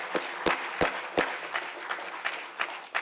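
A modest audience at an opening-remarks event applauds for Krishna Garikipati, a few sharp, distinct claps standing out over a thin spread of clapping, moderately quiet and steady throughout.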